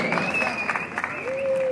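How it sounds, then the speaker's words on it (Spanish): An audience applauds comedians at the Micrófono de Oro award event in Yuriria, Guanajuato, a steady wash of clapping running under a voice and tonal sound. "Bravo, un fuerte aplauso, por favor"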